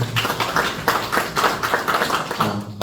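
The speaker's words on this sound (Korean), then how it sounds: "하나님께 영광의 박수 올려드리겠습니다." A church congregation claps in praise after a prayer, a steady burst of many hands applauding together at moderate distance.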